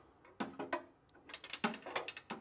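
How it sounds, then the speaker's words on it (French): A large wrench tightening a frunk strut on a Tesla Model Y, a few quiet ratcheting clicks, then a short pause and a quicker run of close mechanical clicks. "je vais utiliser ma grande clé. Donc là, juste à être patient, il faut y aller doucement"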